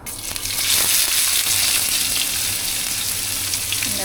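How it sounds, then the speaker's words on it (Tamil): Onions fry in a pan with cinnamon and cardamom for a Sri Lankan pineapple curry, giving a steady, loud, close sizzle with faint scraping from stirring and no talk. "கொஞ்சம் வெங்காயம் தள்ளி கொட்டிடலாம்."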